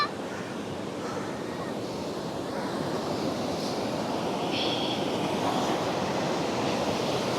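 Pacific Ocean surf breaks steadily along a San Diego beach, a continuous distant wash of waves with light wind, with no talk over it.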